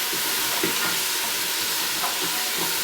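Vegetables and mushrooms sautéing in a pan after a chuck roast has been browned, a loud, continuous hiss of frying with faint stirring bumps underneath, no speech.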